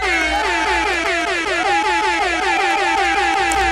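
An air horn sound effect blares continuously at close range, loud and steady, with harmonic layers and a repeating pulsing pattern throughout.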